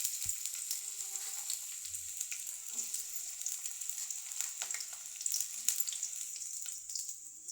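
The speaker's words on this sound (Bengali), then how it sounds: "দিয়ে দিচ্ছি পেঁয়াজ" Onions sizzle in hot oil in a wok with a constant, even hiss and scattered light pops, fairly quiet and close, with no voices.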